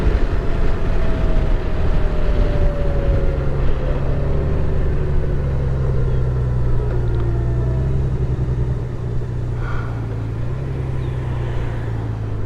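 Engine drone and road rumble from a 2023 Honda Gold Wing motorcycle cruising along a lakeside road, steady and loud throughout, with a gradual pitch drop as the automatic transmission downshifts.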